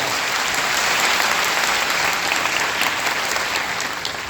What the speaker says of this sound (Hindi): एक बार तालियां चाहिए, जोरदार तालियां।